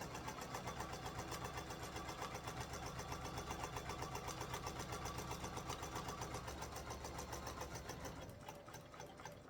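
A mechanical sewing machine stitches a stitch-and-flip landscape quilt, its needle running in a fast, steady rhythmic clatter close by for several seconds before slowing and fading near the end.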